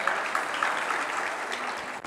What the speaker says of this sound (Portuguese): dá uma salva de palmas para o Edmar